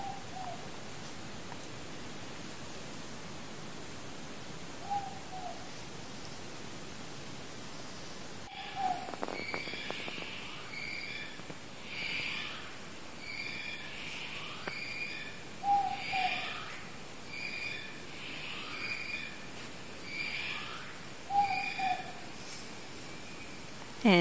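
Kiwi calling at night on the Rakiura Track in New Zealand: shrill, repeated whistling cries come in bursts from the dark bush over a steady hiss of night ambience, moderately loud and spaced several seconds apart.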